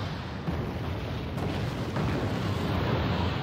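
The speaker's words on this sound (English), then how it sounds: "And trying to shell my airborne with his very heavy artillery" Very heavy artillery shelling in Wargame, a steady, muffled low rumble of distant bombardment without distinct single blasts.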